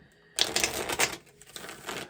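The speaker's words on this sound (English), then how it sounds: "I'm going to take this little deck, give it a shuffle." A small tarot deck is shuffled by hand, a quick burst of riffling, clattering card slaps in two close bursts with a brief pause between them.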